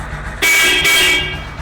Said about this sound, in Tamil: ஹார்ன்ஸ் எல்லாமே பக்கா